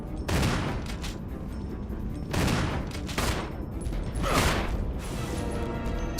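Loud gunfire from the Resident Evil video game comes in several dense bursts of rapid shots, about four volleys, separated by brief lulls with a faint mechanical clatter, close and sharp, with no talk over them.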